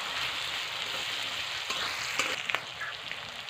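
Potato frying in a pan for sabudana khichdi, a continuous bright sizzle and crackle close up, with a few light spatula taps near the end.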